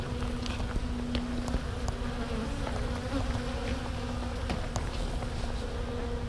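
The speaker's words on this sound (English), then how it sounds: "That's a lot of bees for no reason." Honeybees swarming around an open beehive, a dense continuous buzzing with individual bees droning past up close over a steady low hum.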